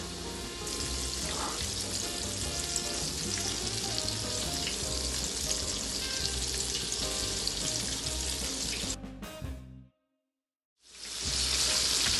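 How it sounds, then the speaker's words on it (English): Flour-coated popcorn fish pieces frying in oil, giving a loud, steady hiss and crackle for about nine seconds before it cuts to a brief silence and then resumes. "and then you fry."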